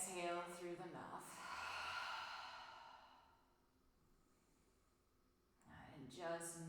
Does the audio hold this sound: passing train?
no